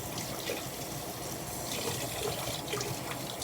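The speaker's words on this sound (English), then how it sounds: "rinse the blade" A blade is rinsed under a running tap, giving a steady, soft stream of water splashing into a sink for a few seconds, quiet and alone.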